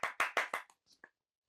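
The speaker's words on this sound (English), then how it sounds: "Everybody, round of applause." Four sharp, close hand claps in quick, even succession from a small group at a podcast recording, followed by a couple of fainter stray claps, then silence.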